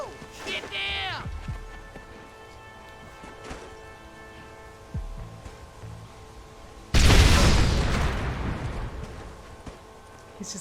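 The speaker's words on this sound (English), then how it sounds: "I'm not scared of a little explosion" A gate blown open by an explosion in the Red Dead Redemption video game, a sudden loud boom with a long rumbling, crackling decay, preceded by horse and shouting voices, with speech around it.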